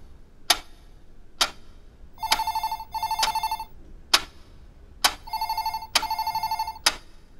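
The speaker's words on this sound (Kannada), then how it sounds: "ಅದ್ವಿತ ಫೋನ್ ತಗೋಬೇಡ." A telephone rings in short bursts, electronic trills alternating with sharp ticking clicks at a steady rhythm, close and clear with no speech.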